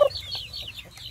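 Plump black backyard chickens cluck in short, close repeated calls, a quick string of soft clucks with no talking.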